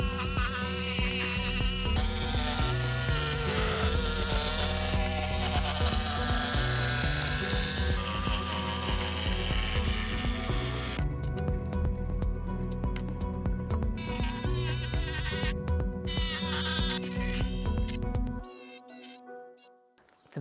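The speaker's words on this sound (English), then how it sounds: "You will find that the jigsaw will guide you. It'll naturally wanna cut to a certain curve." A jigsaw cuts through 18 mm plywood in a loud, continuous close buzzing drone with shifting pitch as the blade works the curve, stopping abruptly near the end.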